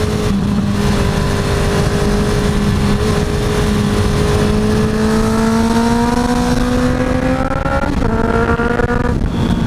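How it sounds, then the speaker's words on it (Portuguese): A loud car engine revs and climbs in pitch, then drops sharply as it downshifts with heel-and-toe throttle blips and rises again through a corner, running continuously and close. "Vou reduzir de novo. Ó, faço a curva com o motor cheio."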